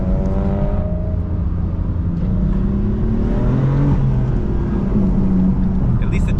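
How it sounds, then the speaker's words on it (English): A turbocharged BMW M3/M4 engine, with a manual BMW M4 F82 and an E92 M3 involved, revs up close by, a loud steady drone climbing in pitch through the middle, with voices partly present. "At least the turbo sounds good"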